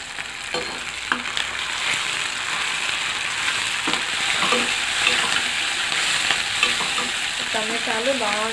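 Chopped tomatoes sizzle and fry in a pan for a cabbage egg curry, a steady crackling hiss with intermittent scraping stirs of a spoon against the pan.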